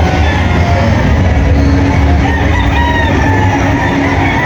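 A pure breed game fowl rooster crows at a fair booth, the call rising over a constant loud crowd hubbub, with some clucking of other fowl nearby.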